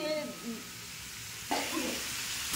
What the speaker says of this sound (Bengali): বারবার চালিয়ে চালিয়ে কিন্তু ভেজে নিচ্ছি জিনিসটাকে